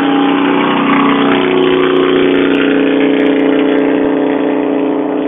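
A loud motorcycle engine roars steadily nearby, a sustained rumbling drone that persists throughout without speech.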